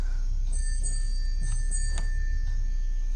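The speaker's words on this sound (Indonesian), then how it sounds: "Dia seperti mendengar suara lonceng ibunya dulu." A small handbell rings several times in a dim scene of the Indonesian horror film Pengabdi Setan, light metallic strikes over a low steady hum.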